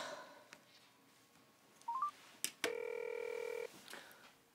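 A phone number is tapped out on a telephone keypad: a few quick soft key tones, then a sustained dialing tone for about a second in a quiet room, with no talking.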